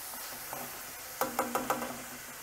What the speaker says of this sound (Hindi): टमाटो में वाटर होता है और ऑयल में वाटर जाते ही वो उछलता है